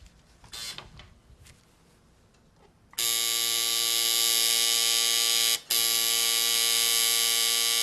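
A tattoo machine buzzes steadily while tattooing, moving slowly in a loop around a curve. After quiet handling noise it starts up loud and close, holds an even drone with a momentary cutout partway, then resumes.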